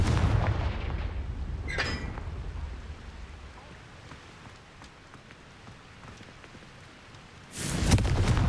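Confringo fire-spell blasts in Hogwarts Legacy: a sharp explosive burst near the start and another heavy blast at the end, with quieter rumbling ambience between.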